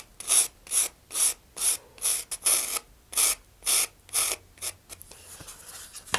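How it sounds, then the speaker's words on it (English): Sandpaper rubbed back and forth along the back edge of a model rocket part, an X-15 kit piece, in about ten even, close rasping strokes that fade into softer scuffs at the end, with no talking. "Now the back edge I'll sand off."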